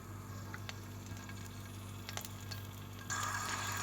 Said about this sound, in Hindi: अब हम इसमें लहसुन अदरक का पेस्ट डाल रहे हैं।